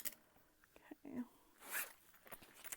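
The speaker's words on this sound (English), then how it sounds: "I'm going to have the zipper zipping shut in the same direction" A clothing zipper is pulled shut during garment sewing, giving a short rasping zip sound after some soft handling noises, close and fairly quiet.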